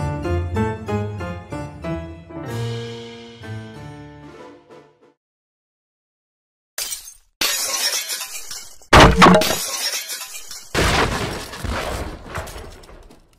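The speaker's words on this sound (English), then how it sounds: "It sounds like glass breaking again." Glass shattering in a Minecraft game, heard as several sharp, loud crashes after a pause, following a sustained musical chime that fades to silence.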